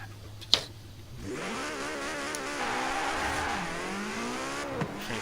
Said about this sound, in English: 959, I'll show you that real quick and why it's probably my fastest accelerating car overall